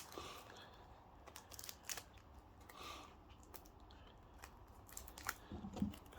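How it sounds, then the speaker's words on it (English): Scissors snip at the tough wrapping on a deck of magic cards, giving a few short crisp cuts and crinkles against a quiet room. "Let's get these scissors out again."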